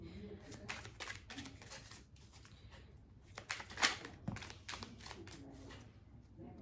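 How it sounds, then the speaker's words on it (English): Tarot cards are shuffled and fall onto a surface in quick, close riffling bursts and soft flicks, with a quiet voice talking underneath. "Again, the cards are falling."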